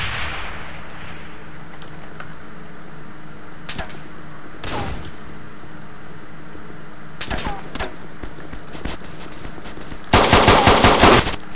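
Machine gun fire in the online shooter Breach, a team deathmatch on the Passage map: scattered single shots, then a loud rapid burst near the end, over a low game hum.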